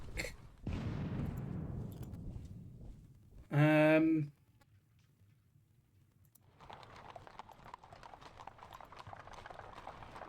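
Cavalry horses riding back in a Napoleonic war strategy game, a burst of galloping hoofbeats followed by a loud synthetic tone and later a faint, dense clatter of distant hooves or gunfire.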